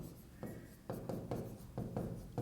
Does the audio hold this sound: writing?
yes